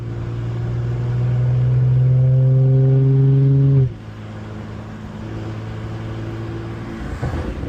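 An Audi RS5 engine in sport mode holds a loud, steady rev, then drops sharply as the gearbox snaps through a downshift, settling into a lower, quieter drone.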